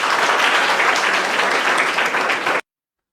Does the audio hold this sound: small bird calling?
no